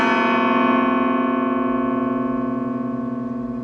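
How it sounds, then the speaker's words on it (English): A guitar chord rings out once and sustains, slowly fading, its notes clashing slightly against each other as if out of tune. "if you do not have the guitar tuned in the right way, it may sound like this"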